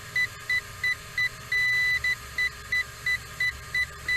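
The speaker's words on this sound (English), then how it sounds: "I think it beeped on the horizon level" A drone gives a high electronic beep in quick regular pulses on reaching horizon level, one held a little longer, over a low motor hum.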